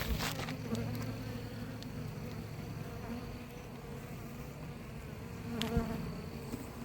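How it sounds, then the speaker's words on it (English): A steady, dense insect buzz of many honey bees from a queenless colony hums continuously throughout, with a few louder passes of individual bees close by. "this colony of bees that doesn't seem to have a queen."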